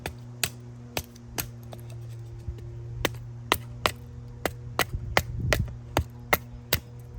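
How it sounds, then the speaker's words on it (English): A knife shaves a stick of wood into kindling at a campfire site, making sharp, crisp scraping clicks in an uneven series of strokes. The sounds are close but fairly quiet over a faint steady hum. "you want to use your knife and you want to go at the edges"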